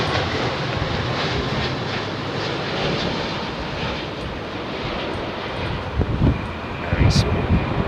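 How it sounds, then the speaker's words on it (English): A British Airways Boeing 787-10 arriving at Heathrow, a steady broadband jet rumble held at even loudness throughout, with a few brief knocks and clatters near the end. "787-10, British Airways."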